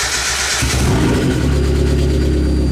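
A car engine runs just after an alternator replacement, first a softer mechanical hum, then a louder, fuller running tone that holds steady at close range with no voices.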